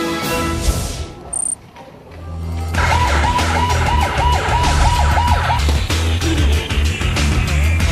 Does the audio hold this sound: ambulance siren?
yes